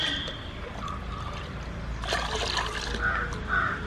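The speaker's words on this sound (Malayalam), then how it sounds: "അതിൻ്റെ ചുവട്ടിലോട്ട് ഇങ്ങനെ ഒഴിച്ചു കൊടുത്താൽ മതി." Diluted organic slurry poured from a mug at the base of amaranth plants in a home garden, a soft steady trickle of liquid heard close, with a crow cawing faintly in the background.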